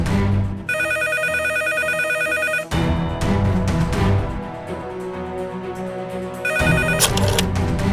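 A telephone rings loudly in a dramatic Indian TV serial scene, its electronic bell repeating in two long bursts over a dense music score, then cutting back in near the end.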